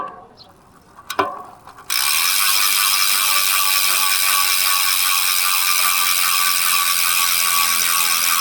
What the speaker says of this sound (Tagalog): Yan yung tunog ng ano no, elite wheels na hubs no, road bike pag naka free wheels.